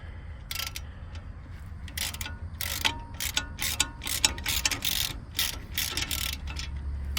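A socket ratchet tightens the tine guard bolts on a 30 HP PTO tractor tiller, giving bursts of close, crisp clicking that start and stop in short runs over a low steady hum, with no talking.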